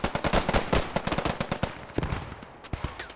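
An M1919 machine gun fires in sharp, rapid bursts in the WWII shooter Post Scriptum, loud and close at first, then thinning into scattered, more spaced shots before a last few cracks.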